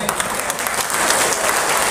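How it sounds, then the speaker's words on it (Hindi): A crowd at an election rally applauds a politician's speech with loud, dense, continuous clapping that fills the whole short moment and grows slightly louder toward the end. "अब जो लोग सबसे जोर से ताली मार रहे हैं ना"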